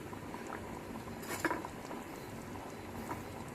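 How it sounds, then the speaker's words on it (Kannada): Aloo sagu, a potato curry, boiling in a pot, with a low steady bubbling and simmering texture and one brief louder clink or splash partway through, no voices. "ಈಗ ಕುದೀತಾ ಇದೆ ನೋಡಿ"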